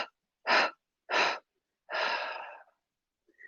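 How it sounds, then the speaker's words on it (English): Forceful breaths pushed out through the mouth in yoga breathing, three short sharp huffs followed by a longer drawn-out exhale, close and loud with silence between each. "we're going to inhale through the nostrils and then exhale out through the mouth"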